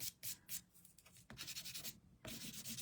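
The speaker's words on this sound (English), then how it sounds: "So just with my sand eraser," A Tombow Mono sand eraser rubs gently over paper in quick, soft scrubbing strokes, close and fairly quiet, with a short pause midway before the rubbing resumes steadily.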